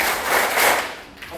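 An audience claps together at a humorous lecture. A short, dense patter of hands fills the room at steady loudness, with no voices over it.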